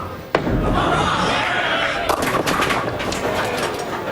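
A bowling ball rolls down the lane at a professional tournament and crashes into the pins with a sharp impact, followed by a clattering scatter of pins against steady arena crowd noise.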